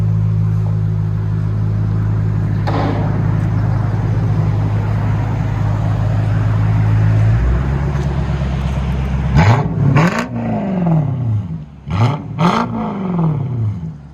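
A Lexus V8 fitted with a dual X-pipe exhaust idles with a deep, steady rumble, then snaps through two sharp revs that rise and fall back, loud and close, with no talking.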